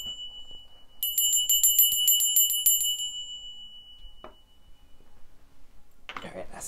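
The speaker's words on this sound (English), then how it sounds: "Forgot to ring my bell." A small bell rings in a quick, bright run of about a dozen even strikes, then fades out, followed by a soft rustle.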